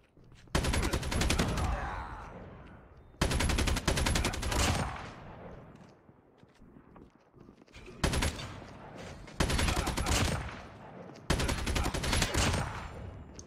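Call of Duty Mobile gunfire in the Attack of the Undead mode, loud bursts of rapid automatic shots repeating in several sustained volleys separated by short pauses.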